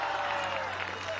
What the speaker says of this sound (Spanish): Un aplauso a Cuba.